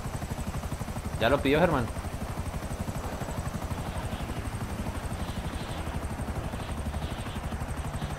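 Helicopter rotor thrum in GTA 5 Online, a steady low pulsing drone that runs throughout at moderate loudness under a brief spoken remark.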